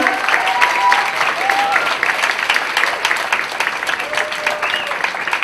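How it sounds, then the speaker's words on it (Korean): A church congregation applauds warmly in a sustained, even wash of clapping, with a few voices rising over it. "한번 큰 박수로 여러분 환영해 주시겠어요?"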